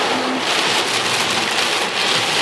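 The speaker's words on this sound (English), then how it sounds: "Look at that, you can see the rain in the headlights." Heavy rain drums steadily on a car parked during a severe storm in Rochester, NY, a dense, loud, unbroken hiss of drops on the roof and windows with no talking.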